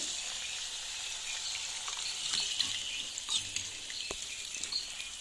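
A mix of tomato sauce and soy sauce is poured into a hot pan of gobi manchurian, producing a bright, continuous sizzle with light stirring clatter close by.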